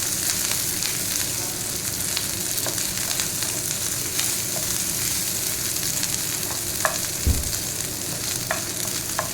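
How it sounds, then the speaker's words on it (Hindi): Green chillies fry lightly in hot oil in a pan for a honey chilli potato dish, with a steady sizzle throughout and a few soft clicks of stirring, one heavier thump near the end. "हरी मिर्च को भी डाल देते हैं और इसे भी हल्का फ्राई कर लेते हैं।"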